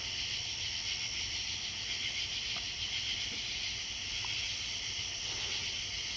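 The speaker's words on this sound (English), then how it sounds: "Carolina ground crickets and the common true katydid is what I'm hearing the most right now." Carolina ground crickets and common true katydids call outdoors at night, a continuous high, even insect trill droning without a break, fairly faint and steady throughout.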